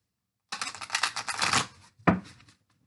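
Tarot cards riffled in a single quick shuffle of about a second and a half, close and crisp, followed by a brief sharp slap as the deck is squared, with no talking.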